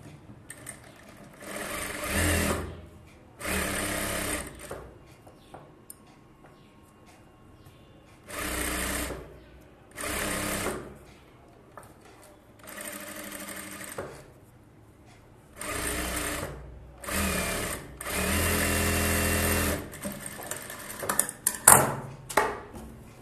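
A sewing machine stitches a bridal Aari work blouse in repeated bursts of fast mechanical whirring, each a second or two long, separated by quiet pauses.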